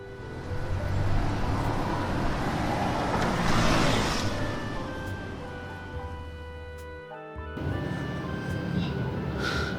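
Dense road traffic in Bangalore, a continuous wash of engines and vehicle rumble with a few faint horn tones, briefly dropping out near the end before resuming.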